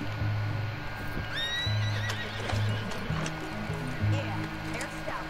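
A horse in the video game Red Dead Redemption 2 neighs and whinnies over steady clip-clopping hooves, with running water and a low rumble in the background.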